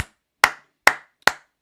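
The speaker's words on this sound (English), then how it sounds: "Round of applause, people." A single person claps three times during a live football watchalong of Newcastle versus Arsenal, giving sharp, evenly spaced, close hand claps with near silence between them.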